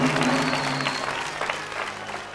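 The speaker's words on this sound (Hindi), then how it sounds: "तालियां।" Studio audience applause on a TV quiz show, a loud sustained burst of clapping that gradually softens, with a faint steady tone underneath at the start.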